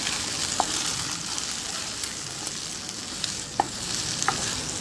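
Calabresa sausage frying with vegetables in a pan is stirred, giving a steady sizzle with a few soft scraping clicks of a utensil, moderately close and with no voices.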